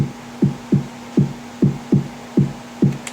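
A MIDI-programmed kick drum for a cover thumps steadily at moderate volume, about eight soft, dull hits in an even pulse over a faint low hum.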